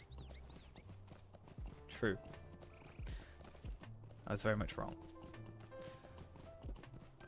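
Hoofbeats of an elk mount in Lord of the Rings Online form a soft, steady clip-clop of hooves with occasional animal calls, all faint beneath someone talking throughout.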